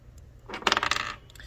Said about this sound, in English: we roll a dice for it